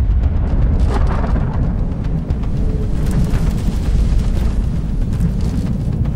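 Rumbling explosion hits an AV flying vehicle in Cyberpunk 2077, a heavy, sustained low-frequency boom and roiling blast that fills the whole stretch at high volume with no speech over it.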